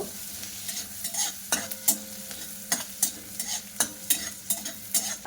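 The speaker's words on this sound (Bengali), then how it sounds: "নাড়াচাড়া করে নেব একটু ভাজা করে নেব" Ginger and green chilli stirred and fried in a dry pan, a spatula scraping in irregular strokes over a soft sizzle, close and fairly quiet, with no talking.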